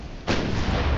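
Secondary guns on a warship in a naval battle game fire a single heavy boom that starts abruptly and sustains a loud, rumbling blast to the end.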